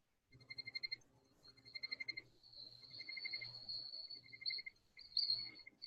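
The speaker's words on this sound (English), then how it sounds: "Somebody has crickets." Crickets chirp in quick pulsed bursts, high and thin, repeating in short trains over a quiet background; nobody speaks.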